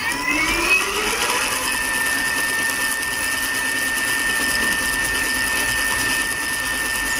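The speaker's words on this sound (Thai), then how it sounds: "แล้วก็บิดคันเร่งนะครับนี่ฮะ ล้อก็จะหมุนนะครับ" An electric motor fitted to a converted Yamaha Mate 100 motorcycle spins the wheel with a steady high whine and faint hum, near and continuous, with no talk.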